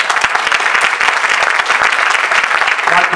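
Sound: audience applause

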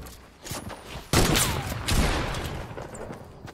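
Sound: gunfire from a video game sniper shot

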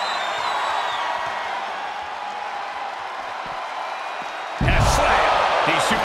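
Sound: capacity wrestling arena crowd

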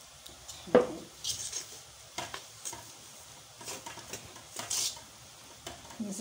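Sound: stirring and mixing dough in a bowl

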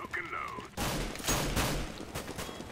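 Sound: Mag-7 shotgun firing in Counter-Strike: Global Offensive video game

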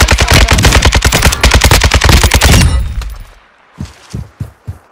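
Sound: sniper rifle shooting in Warzone 2 video game

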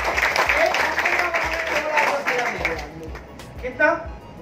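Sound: audience applause

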